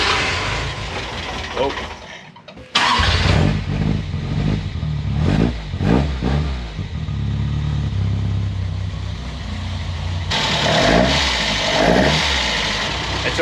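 A warm Toyota KE70 Corolla engine with short intake trumpets cranks and fires, then revs in several sharp bursts above a rough idle, loud and close, with a brief exclamation from someone nearby.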